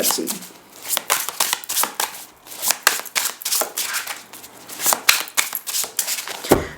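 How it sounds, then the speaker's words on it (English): A deck of cards is shuffled over and over in quick riffling bursts, close up, with brief pauses between rounds. "These cards are like so freaking agreeable to shuffle"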